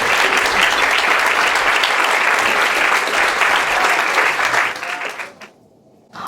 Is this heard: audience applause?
yes